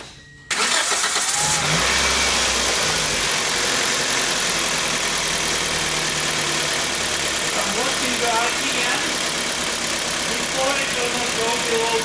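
A Toyota car engine idles steadily after a brief start, a continuous mid-pitched hum with a faint rattling texture that stays loud and close throughout, with some background talk.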